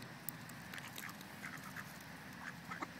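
Ducks quack in short, scattered bursts while being fed, fairly faint and nearby, over a soft background hum.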